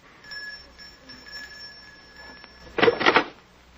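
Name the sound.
doorbell ringing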